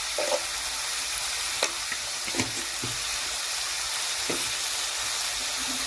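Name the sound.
potatoes frying with turmeric and salt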